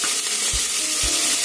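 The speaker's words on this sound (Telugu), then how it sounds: "తర్వాత ఉల్లిపాయలు వేసుకుంటున్నాం." Onions frying in a pan, a steady broadband sizzle throughout with two short low thumps as they are stirred or tossed, close and loud with no talking.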